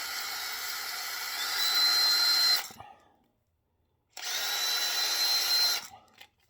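A power drill with an extended bit bores a channel through a frame to seat an axle tube, running in two steady sustained bursts separated by a brief pause, loud and close with no talk.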